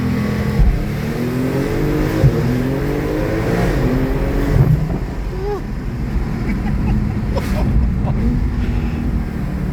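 A twin-turbo Porsche 911 accelerates hard on a test drive, its engine note climbing through rising pitch sweeps and gear changes, heard from inside the car with wind noise and faint talk.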